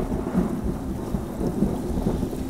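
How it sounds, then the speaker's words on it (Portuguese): A storm with thunder and rain: a dense, loud, low rumble with steady rainfall noise, continuous throughout and with no voices. "É só um relâmpago."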